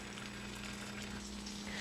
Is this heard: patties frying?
yes